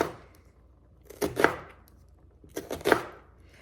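Two bursts of knife chopping an onion on a cutting board, each a quick cluster of crisp thuds, close and clear with quiet pauses between.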